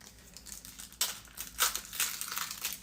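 A Star Wars: Unlimited card pack's plastic wrapper crinkles and tears close up, quiet rustling followed by several sharper ripping bursts.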